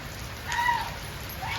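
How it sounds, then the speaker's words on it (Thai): Steady rain falls during a wet morning at a flooded home, a continuous even hiss with no talk over it. "ฝนตกทุกวันเลยนะคะเราดูฝน"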